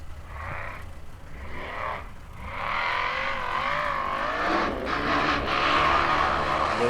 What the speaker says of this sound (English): This truck has always done well in these situations.